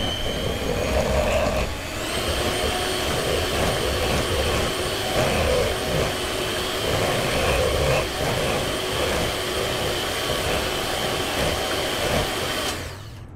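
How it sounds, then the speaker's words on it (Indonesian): Continuous whirring drone of an electric hand mixer beating banana cake batter, close and loud, running steadily for most of the stretch before cutting off near the end, with no talking. "Jadi mau tak mixer bentar ya."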